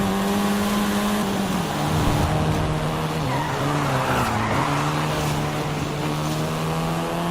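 A Volkswagen Golf R in Forza Horizon 5 drives hard, its engine droning steadily while the tires squeal and skid through corners, the screech rising and falling over a loud, continuous motor note.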